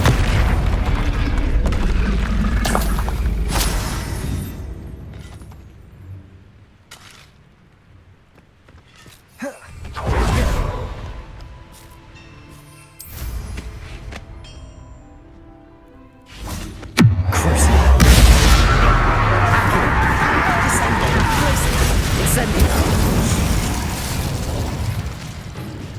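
Confringo spell blasts in Hogwarts Legacy on PS5 burst out as several separate booming explosions, each loud impact trailing off, with quieter gaps between and a long rumbling blast near the end.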